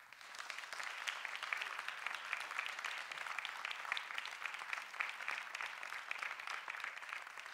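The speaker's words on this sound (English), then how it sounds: "they all deserve a collective round of applause" Steady, dense applause from an audience honoring the finalists of a science communication competition semi-final, sustained and fairly even throughout without pause.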